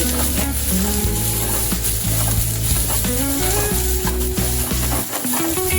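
Onions fry in a pan for a chicken green masala, with a loud, continuous close sizzle and crackle and occasional stirring scrapes throughout.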